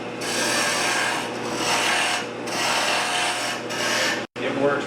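Bowl gouge cutting wood on a lathe while turning a goblet, a steady loud rasping scrape in long sweeping passes with brief dips between, ending in a short break.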